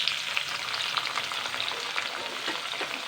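Tomato, chopped green chilli, ginger paste and a large onion hit hot oil for a Bengali fish curry, giving a dense, steady sizzle and crackle throughout with light stirring, close up and without voices.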